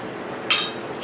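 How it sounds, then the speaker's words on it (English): Hammer whacking transfer screws into the holes of a steel pattern for a Frame 56C motor mount, a single sharp metallic clink amid quiet shop hum, followed by a softer second tap. "just whacked away at it with a hammer"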